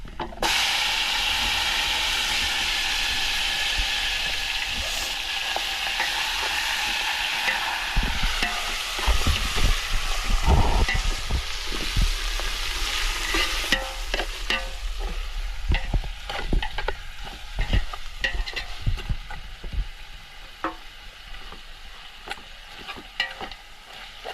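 Soaked mutton pieces tipped into a hot pot for biryani, cooked outdoors on a hillside in light rain, give a loud, steady sizzle with bursts of stirring and clatter throughout, no voices.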